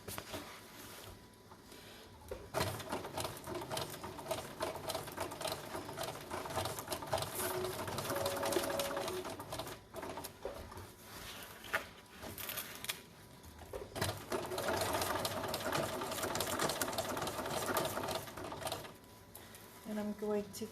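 Sewing machine stitching straight seams on a concealed carry belly band, running in steady bursts with brief pauses, a voice talking over much of it.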